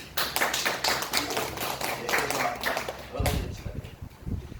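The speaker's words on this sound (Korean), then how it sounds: "이쯤 되면 박수 한번 칩시다." Lecture audience at a religious teaching session claps in a thin, uneven burst, moderately faint, followed by a few louder close knocks or taps near the end.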